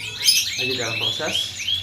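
A small bird chirps and warbles in quick, bright bursts close by, with a faint low hum underneath.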